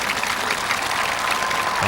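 Dense, loud applause and cheering from the crowd at the 2005 World's Strongest Man heats, for a deadlift effort, continuous and close throughout.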